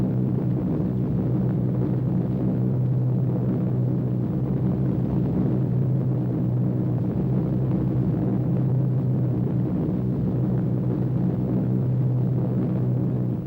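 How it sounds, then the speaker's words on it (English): Aircraft engines of a bomber formation rumble in a steady, loud, continuous low drone with a sustained hum, unbroken throughout and without talk. "Thunder of engines makes the earth tremble and the ravens rise."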